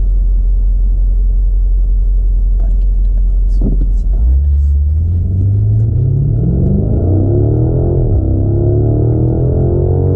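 A stock BMW M550 drives along with a deep, steady engine rumble that drops, then climbs smoothly as the car accelerates, the revs rising and falling again near the end.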